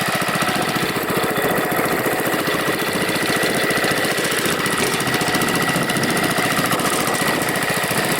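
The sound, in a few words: Gravely mower engine idling with a loud muffler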